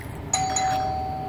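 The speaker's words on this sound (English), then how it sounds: "Is that the doorbell?" A doorbell in a home chimes once with a clear electronic tone, ringing on steadily and moderately loud against a quiet room.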